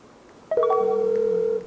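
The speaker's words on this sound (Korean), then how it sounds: "누군가에게 전화를 겁니다." A phone placing a call gives a brief click and then a single clear, steady electronic tone lasting about a second, close and alone.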